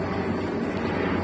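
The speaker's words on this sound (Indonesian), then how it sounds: "sepertinya ada pesawat lewat." An airplane passing overhead produces a steady, broad, low rumbling roar that fills the short clip evenly, with no talking.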